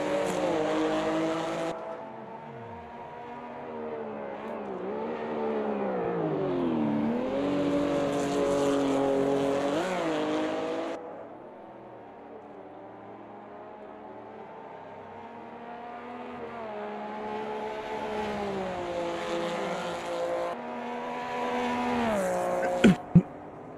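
Porsche Cup race car engines in the Automobilista 2 sim racing game rev up and down steadily through gear changes, with varying pitch and intensity, loud and continuous throughout.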